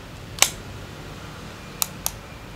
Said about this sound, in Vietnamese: các bạn bật flash cock xem nó có đá lên không nhé